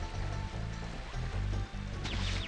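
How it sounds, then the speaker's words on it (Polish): Water splash in the PS1 game Spyro the Dragon as Spyro falls in, a faint burst of rushing, sloshing water layered over a looping game soundtrack. "Nie. Wpadłem do wody."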